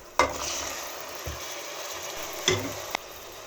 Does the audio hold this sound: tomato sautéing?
yes